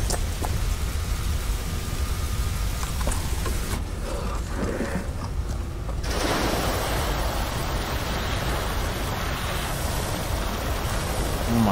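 Water hoses spraying onto fires in the Chernobyl Liquidators Simulator game, a steady rushing hiss through most of the stretch with a brief dip, then a broader, rougher spray that continues to the end.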